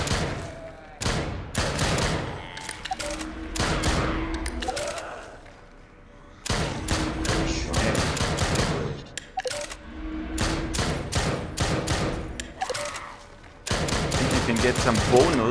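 Rapid gunfire in the VR zombie shooter Drop Dead: Dual Strike, with loud, close shots fired in quick bursts and volleys and short gaps between them.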